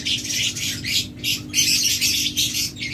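Lovebird or budgerigar squawking, a run of harsh, close bird calls in rapid bursts over a low steady hum.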